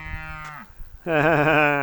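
A cow lows loudly and close by, one short call followed by a long, wavering moo.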